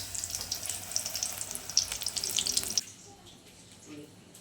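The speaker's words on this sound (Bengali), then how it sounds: "এখন মা ধনে পাতার চপ ভাজছে" Coriander leaf fritters (chop) frying in hot oil, a bright hissing sizzle for about three seconds before it drops away to near quiet with faint background sounds.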